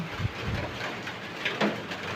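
A soft, continuous hiss of rain falls nearby, steady and fairly faint, with no voices.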